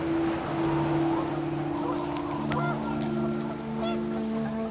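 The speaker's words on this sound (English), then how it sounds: "The wind picked up, and panicked geese appeared and quickly went." Panicked geese in the video game What Remains of Edith Finch, a few honking calls rising over gusting wind and a low droning tone, brief and mid-distance.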